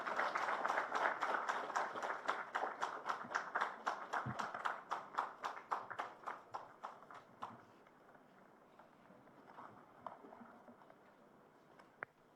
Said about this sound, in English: I think that deserved a much better applause than that